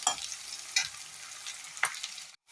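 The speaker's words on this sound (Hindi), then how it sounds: "अब इनको भूनने देते हैं अच्छी तरीके से, जब तक इसमें गोल्डन कलर ना आ जाए।" Onions frying and being stirred in a pan while making kadhi, with a steady sizzle and a few distinct stirring scrapes, close and moderately quiet, no voices.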